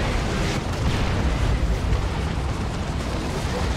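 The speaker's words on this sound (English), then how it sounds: "an off-map artillery drop as well" An off-map artillery drop in the strategy game Warhammer 40,000: Dawn of War 2 produces a loud, continuous rumbling barrage of overlapping explosions with no clear gaps.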